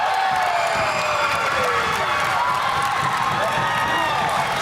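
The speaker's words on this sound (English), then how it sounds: "Crowd getting into it a little bit, cheering on the Lady Eagles" A high school girls' basketball crowd in a gym cheering late in the fourth quarter for the Lady Eagles, with a steady loud wash of shouts, whoops and applause, voices mixed throughout.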